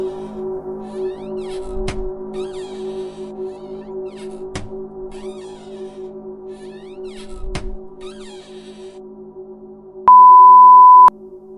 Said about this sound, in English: You nearly leap from your skin when your phone beeps.